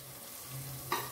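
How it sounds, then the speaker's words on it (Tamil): Ginger garlic paste being sautéed in a pan for vegetable biryani, heard as a soft, faint sizzle with a brief scrape of stirring near the end. "இதில் வந்து பச்சை வாடை போகிறதுக்காக ஒரு 2 நிமிஷம் வதக்கிக்கலாங்க."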